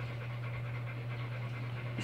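A female pit bull pants steadily and close by in quick, rhythmic breaths over a constant low hum, with no talking during the sound.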